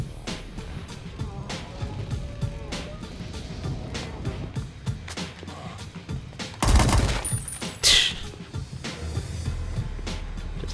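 Scattered gunshots ring out in Saints Row IV, a string of quick irregular cracks over a low rumbling backdrop, with a couple of heavier blasts near the end.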